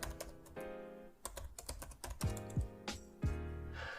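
Rapid clicking keystrokes on a computer keyboard, irregular bursts of close typing with a few heavier thumps, no voices.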